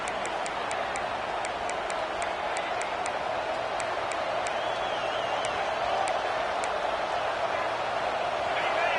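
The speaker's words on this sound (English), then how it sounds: "Decibels rising as the crowd gets behind this defense on third down." A football stadium crowd roars on third down at a college game, a dense sustained wall of cheering that swells toward the end, with faint rhythmic ticking and a commentator talking over it.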